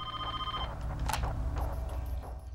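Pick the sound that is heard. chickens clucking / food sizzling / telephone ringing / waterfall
telephone ringing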